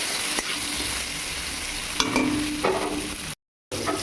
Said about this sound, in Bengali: একটু হলুদ গুঁড়া দিয়ে আমি উচ্ছেটা ভেজে নেব।